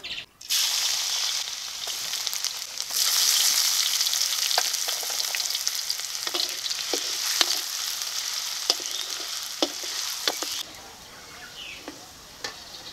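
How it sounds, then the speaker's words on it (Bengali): Ginger, garlic and chopped onion hit hot white oil in a wok and fry with a loud, steady sizzle, broken by repeated clacks and scrapes of stirring before the hiss suddenly drops away near the end. "এই তেলে এখন দিয়ে দেব আদা, রসুন আর পাঁচলি কুচি।"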